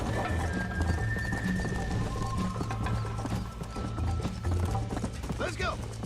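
Horse hooves clip-clop in a steady galloping rhythm in the Red Dead Redemption video game, close and continuous, with a brief whinny and mechanical rattles, while someone talks over it.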